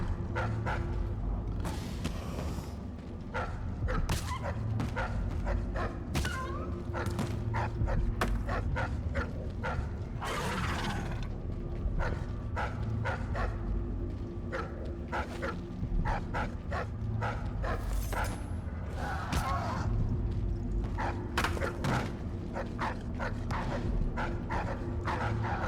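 Repeated dog barks, yips and whimpers from a hound in the video game Dishonored 2, coming in frequent short bursts over a steady game ambience.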